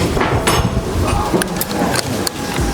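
Sharp snapping shots of a Predator full-CNC air rifle fired through a chronograph, a few sharp cracks over about three seconds against steady background noise and murmuring.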